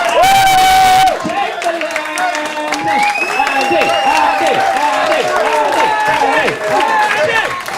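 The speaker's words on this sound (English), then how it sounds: "Stop clapping, please." Comedy club audience applauding and cheering at a stand-up set, a dense loud wash of clapping with whoops, and after a second someone talks over the crowd noise as it carries on.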